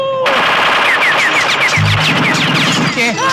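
Rapid automatic gunfire in a video game, a dense continuous burst of shots with sharp repeated reports and a deeper thump midway, loud and close, with game effects layered throughout.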